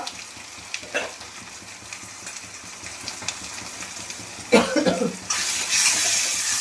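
A spice masala of garlic, cumin, turmeric and chili powder sizzles in a pan as it is stirred, soft frying crackle with scraping strokes that rise into a louder hiss near the end.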